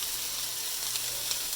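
Vegetables stir-frying in a pan with a soy, ginger, sesame and honey mix hiss in a loud, steady sizzle, with a couple of brief sharper pops.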